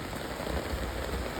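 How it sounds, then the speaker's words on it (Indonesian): Rain falls steadily during an outdoor Islamic religious gathering, a dense even patter on surfaces that stays constant and fairly loud throughout, with no voices heard. "Hujan mesti hujan."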